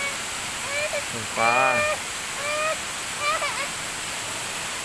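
A waterfall roars steadily throughout, a constant rushing wash of water while a voice speaks over it in short bursts.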